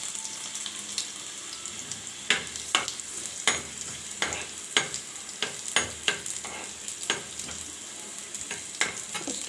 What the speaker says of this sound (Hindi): और लहसुन की कली इसके साथ लहसुन की कली डाल दी है।